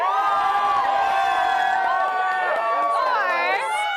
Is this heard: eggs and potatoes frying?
no